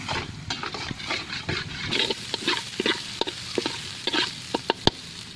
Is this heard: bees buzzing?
no